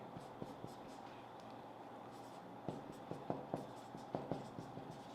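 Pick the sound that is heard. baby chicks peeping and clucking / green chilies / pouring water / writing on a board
writing on a board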